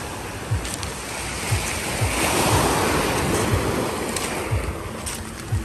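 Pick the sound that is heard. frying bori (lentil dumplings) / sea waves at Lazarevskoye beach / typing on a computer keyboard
sea waves at Lazarevskoye beach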